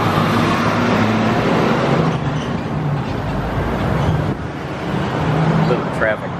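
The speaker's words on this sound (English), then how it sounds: "Little traffic there, sorry." Road traffic passing by outdoors, a steady wash of car and vehicle noise that swells and fades over several seconds at moderate loudness.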